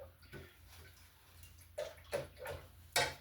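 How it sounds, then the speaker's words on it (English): Paintbrush dipped and swished in a water cup during acrylic painting, several short splashy clinks and sloshes spaced irregularly, close and fairly soft with no speech. "I'm going to put it right down here in my water."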